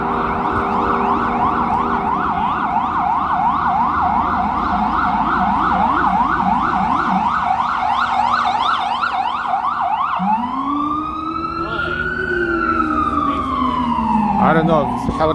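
An ambulance siren on a New York City street along 2nd Avenue, loud and close, cycling through rapid yelping warbles before shifting into long rising and falling wails over steady traffic rumble.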